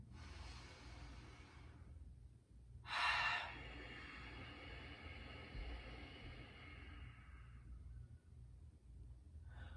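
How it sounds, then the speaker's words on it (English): Ujjayi breathing in a quiet room: one sharp intake, then a long, steady, raspy exhale through a constricted throat with the mouth closed, close and fairly soft, lasting several seconds before fading. "I'm still constricting the back of my throat, and that gives my exhale a texture and a length that's really crucial to Ujjayi breathing."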